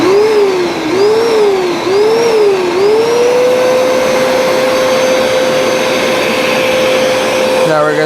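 A Hoover SmartWash carpet cleaner running loud and close over a rug, its motor wavering and rising several times before settling into a steady whine, with a sharp change in tone at the very end.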